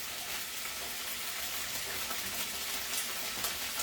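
Sliced baby bella mushrooms fry in hot oil in a pan, giving a steady, dense crackling sizzle that holds even and close throughout, with no talking.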